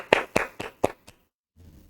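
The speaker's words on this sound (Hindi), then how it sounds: "और एक हम बजाएंगे जोर से ताली" Loud hand claps, four sharp strikes in quick succession, close and clear, followed by a short silence and a faint low rumble.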